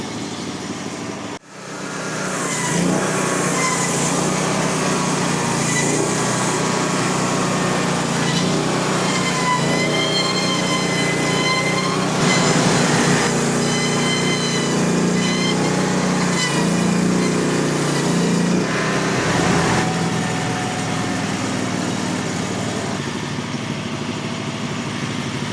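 A Frontier OS35 portable sawmill cuts a large tulip poplar log, its small engine running steadily and loudly throughout with a slight rise in strain as the blade works through the wood.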